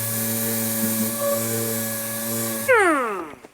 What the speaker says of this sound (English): So after the grind, 80 grit.